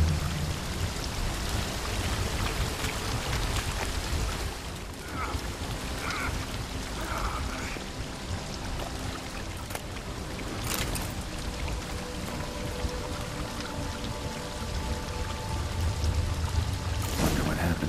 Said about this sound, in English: A waterfall flowing upwards?